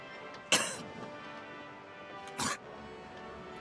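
A video game character's retching fit ends in two sharp bursts, a harsh sneeze-like expulsion near the start and another about two seconds later, each loud and brief against a quiet ambient background.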